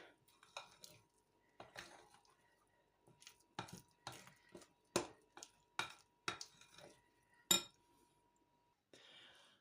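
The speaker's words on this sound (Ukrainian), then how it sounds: "Перемішуємо і будемо формувати печеньки." A spoon scraping and clinking against a bowl while pumpkin cookie dough is mixed, with irregular close taps and knocks spaced through a quiet kitchen.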